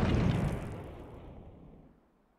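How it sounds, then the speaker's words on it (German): A muffled video game explosion in H3VR booms low and heavy, then fades away over about two seconds, sounding distant and alone. "Explosionen in der Ferne."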